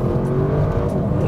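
A 2024 Audi RS 6 Performance accelerates uphill in second gear, its engine droning in a loud, steady, continuous roar throughout the short stretch.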